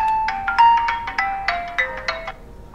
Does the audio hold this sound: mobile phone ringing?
yes